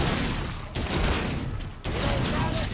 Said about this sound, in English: Shotty! I got a shotgun!